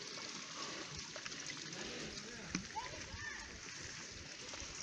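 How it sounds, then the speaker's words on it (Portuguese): Running water set up near a mango tree on a rural property to keep bees away: a steady faint trickle and splashing, with scattered soft voices over it. "o moço botou a água ali para espantar as abelhas"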